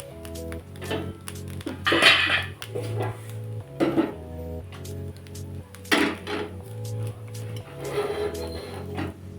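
Fried poppy seeds are scraped and tipped from a metal pan onto a plate, producing clinking and scraping of metal and crockery in irregular bursts, close and moderately loud, with no talk.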